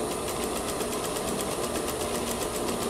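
A sewing machine stitching fabric for a gathered seam runs in a steady, rapid mechanical hum with an even, quick ticking rhythm, close and continuous throughout with no talk.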